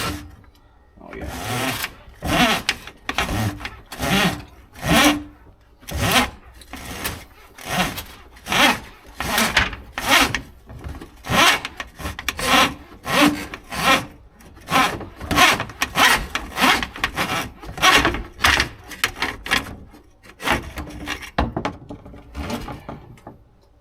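Sewer cable grinding through grease buildup in a clogged kitchen sink drain line, a steady run of loud rhythmic scraping and rubbing strokes, roughly two per second, close up with no talk.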